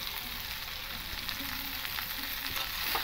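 Fried bitter gourd pieces tossed into hot sizzling masala for a vegetarian shukto, a steady close frying hiss with light clatter and stirring scrapes throughout, growing slightly louder near the end.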